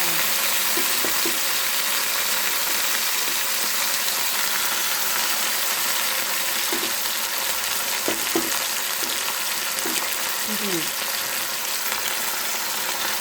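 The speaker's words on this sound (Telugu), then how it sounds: "ఇప్పుడు చూడండి ఆకు వేయగానే జమ్మని వస్తుంది" Amaranth leaves hit a hot pan for a vegetable curry, giving a loud, steady sizzle that fills the whole stretch, with a few soft clinks of stirring underneath.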